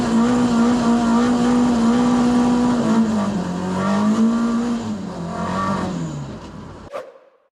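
Mk1 Ford Escort with an ST170 engine driving on the road, a loud revving engine note rising and falling with gear changes, close and continuous, fading out at the end.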